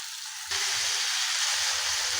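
Bitter gourd slices tossed into a hot pan with small shrimp set off a sudden loud, steady sizzle of frying that runs on alone without a pause, with faint stirring scrapes underneath.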